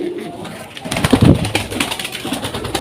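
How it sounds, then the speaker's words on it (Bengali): A female Indian gola pigeon coos close by in a loft or cage, a low throaty rumble that swells in the middle, with some faint rustling around it. "তো এটা একটা মাদি কবুতর।"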